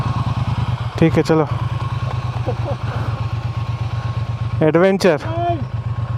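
Triumph motorcycles ride over rough off-road terrain near Karjat, their engines holding a steady low idling thrum throughout, while people talk over it in short bursts.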